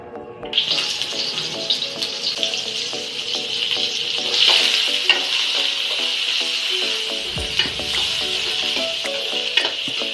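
Cooking oil sizzles loudly in a pan while making ginataang hipon with kalabasa, a close, continuous bright crackle with small pops and stirring clicks, lasting throughout.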